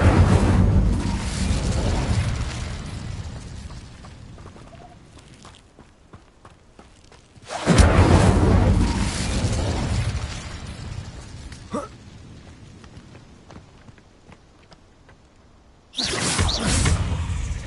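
Incendio fire spells blast in Hogwarts Legacy: three loud, whooshing fiery bursts arrive roughly eight seconds apart, each erupting suddenly and then tapering into quieter crackling and rustling ambience.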